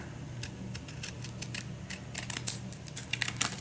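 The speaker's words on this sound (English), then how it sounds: "I'm going to try using my pinking shears" Pinking shears snipping through paper, a run of quick, crisp, close cuts with irregular rhythm and a few louder clicks toward the end.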